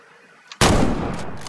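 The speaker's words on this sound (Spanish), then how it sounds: "Disparo perfecto." A single loud hunting-rifle shot cracks in the video game Way of the Hunter after a quiet moment, then a long booming echo rolls out and slowly fades.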